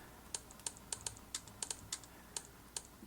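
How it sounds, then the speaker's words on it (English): Typing on the clicky on-screen keyboard of a Samsung Galaxy Tab S 8.4 tablet, a series of about a dozen sharp, light, irregular key clicks, quiet and close, with no talking. "It also sounds like a traditional clicky keyboard."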